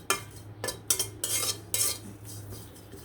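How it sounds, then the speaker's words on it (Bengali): Utensil scrapes and clinks sound against a pan as dried fish (shutki) is tossed in oil, a few sharp bursts with quiet gaps between them and no voices. "এখানে কিন্তু শুটকিটা খুব সুন্দরভাবে তেলে নেব"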